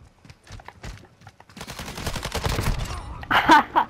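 Close, loud bursts of automatic gunfire from the shooter game Call of Duty: Modern Warfare II, a dense rattling volley followed by a few sharp final shots, with a player briefly talking before it.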